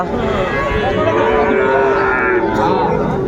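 Cattle low steadily in a loud, continuous drone, several young bull calves mooing together up close at a cattle market, with background noise throughout.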